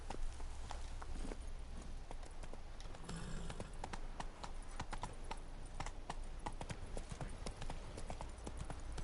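The horse Roach's hooves clip-clop steadily in The Witcher 3, a continuous run of crisp, evenly spaced hoofbeats over a constant ambient bed, close and clear.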